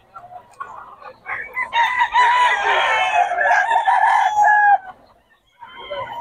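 A rooster crows loudly and close at a Bocaue market stall where chickens are sold, a long drawn-out call followed by a shorter second crow amid clucking hens.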